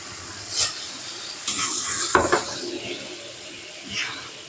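Spaghetti noodles with beef are sautéed and stirred in a hot pan for chow mein, giving soft sizzling with a few scraping, clinking utensil strokes against the pan.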